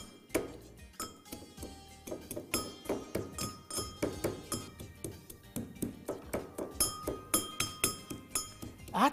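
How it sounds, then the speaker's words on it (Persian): Fresh garlic being crushed, giving a series of small sharp knocks and clinks in an irregular, fairly quick rhythm, close and moderately quiet. "سیر رو له میکنم"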